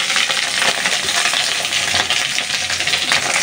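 Puli pitha dumplings fry in mustard oil in a wok, giving a loud, steady sizzle with continuous crackling hiss throughout and no talk.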